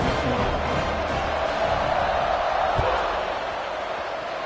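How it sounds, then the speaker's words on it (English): A stadium crowd roars steadily in the College Football 26 video game as a kickoff approaches, a dense continuous wash of cheering with a faint thud partway through. "this crowd now ready to get behind them"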